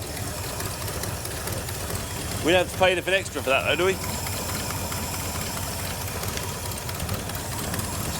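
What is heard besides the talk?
car engine idling with exhaust blow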